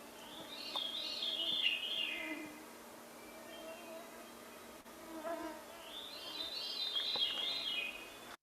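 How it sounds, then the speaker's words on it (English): Two ethereal, flute-like descending phrases of a veery thrush ring out several seconds apart over a faint insect hum, sounding slightly distant. "you might have recognized that was a veery, which is a thrush"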